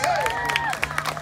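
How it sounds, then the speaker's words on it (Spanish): Brief burst of audience applause and cheering for dancers at a library music show in Hackensack, New Jersey, clapping mixed with crowd noise and gliding musical tones. "Y el aplauso para los bailarines"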